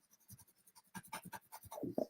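Scratchy strokes of a General's charcoal pencil on paper, close and quiet, in short irregular bursts of sketching with brief pauses between.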